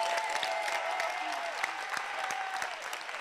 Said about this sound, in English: Clap your hands for the ministry.